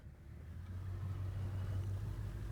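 A 1947 Ford Coach engine runs steadily while the car backs up in reverse, a low, even rumble that holds close and fairly quiet, slightly building in the first moment.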